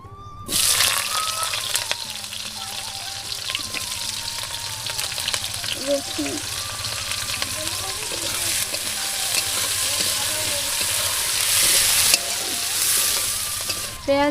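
Onions frying and being stirred in oil in a pan over a village clay stove, a steady close sizzle with occasional scraping, cooking a fresh rohu fish curry.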